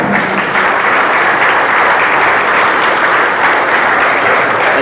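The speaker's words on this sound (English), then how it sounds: "Give him a round of applause" A convention audience applauds for a keynote speaker, a dense, loud, continuous wash of clapping that holds steady throughout.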